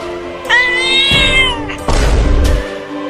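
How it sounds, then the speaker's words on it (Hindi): A cartoon cat lets out a loud, drawn-out meow that bends in pitch, followed by a harsher, noisy yowl, all close and prominent with no speech over it. "अरे बाप रे, इतनी बड़ी बिल्ली कहाँ से आ गई?"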